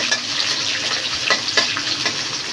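Panch phoron spices and dried chilies frying in oil for a mixed vegetable dish: a steady, close, loud sizzle with faint scraping stir sounds over it and no talk.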